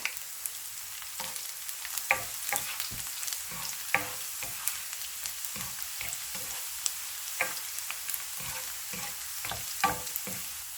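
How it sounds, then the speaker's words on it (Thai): Sliced garlic and dried chilies stir-fry in a hot pan, a constant fine sizzle broken by frequent sharp scrapes and clicks of the spatula, close and fairly quiet with no talking. "แล้วก็ตามด้วยนี่นะคะ พริกแห้งของเรานะคะ นี่ผัดไปพร้อมกันเลยค่ะ"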